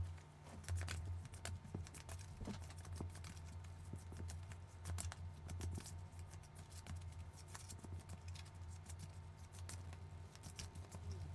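Oracle cards shuffled for a Valentine's Day angel love reading, a soft, rapid patter of riffling card edges repeating over a low steady hum, quiet and close.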